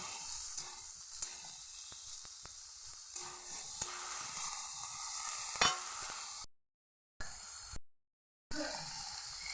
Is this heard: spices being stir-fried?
yes